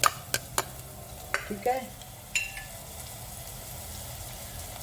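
Chopped onions frying in a pan, a soft sizzle under a few sharp clinks and scrapes of a spoon stirring against the metal, with a brief spoken word at the start.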